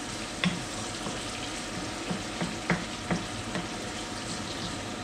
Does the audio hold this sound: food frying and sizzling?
yes